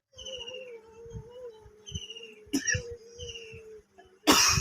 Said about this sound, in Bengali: আমার বড়টা তো কাশি শুরু করে দিয়েছে